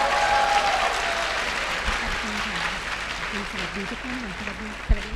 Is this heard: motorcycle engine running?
no